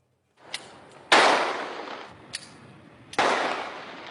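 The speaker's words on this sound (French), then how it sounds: "Échange de coups de feu." Sharp gunshots crack in an exchange of fire, two loud blasts with long decaying echoes alternating with fainter distant pops, no voices.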